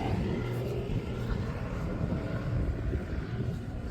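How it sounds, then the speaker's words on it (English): A helicopter passes overhead outdoors near a residential garage, a steady loud low rotor and engine rumble with wind buffeting that holds for the whole few seconds. "There's the chopper."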